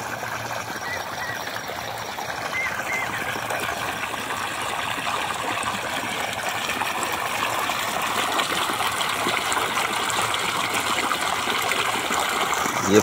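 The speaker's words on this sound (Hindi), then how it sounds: "ये देखिए दोस्तों यहाँ पे पानी चल रहा है गन्ने में" Irrigation water running from a pipe into a sugarcane field in an Indian village in the morning, a steady broadband gushing and trickling that holds constant and slightly builds, close by with no talk.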